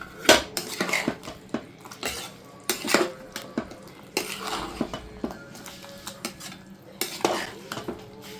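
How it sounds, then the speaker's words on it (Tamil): A utensil scrapes and clinks against a pot in repeated stirring strokes while cooking drumstick avial with coconut, with a soft sizzle underneath, close and moderately quiet. "இப்போ கிளறி விட்டுக்கலாம்"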